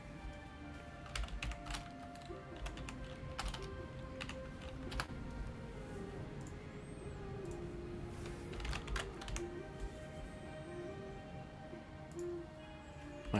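Computer keyboard keys clatter in quick, uneven bursts close by, with occasional sharper keystrokes over a faint steady hum and no talking.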